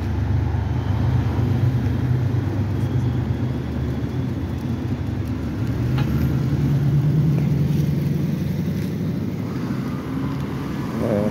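Cars moving in traffic on Columbus Avenue beside a bus lane, a steady close engine and road rumble with passing vehicles that holds for the whole stretch and carries no talk.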